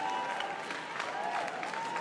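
A crowd applauds steadily throughout, dense clapping at an even level with a faint tone running underneath.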